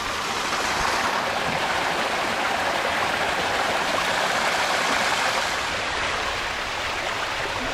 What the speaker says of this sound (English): Playing around with the stream just a little bit, moving rocks around. And there, now we got a full waterfall.